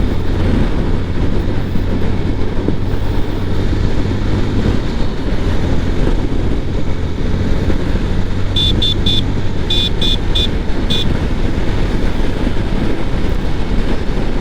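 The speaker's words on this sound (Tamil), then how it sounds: "ஸோ இப்போ என்ன விண்ட் நாய்ஸ்னு உங்களுக்கு இந்த மைக்கில் ரெக்கார்ட் ஆகிருக்கும்." Steady, loud wind roar and low rumble on a helmet-mounted mic of an Axor Apex Vivid helmet while riding a motorcycle at about 80 km/h, with a few brief high beeps near the end.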